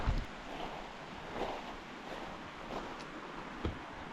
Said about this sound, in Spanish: Miren el río este que hay que cruzar.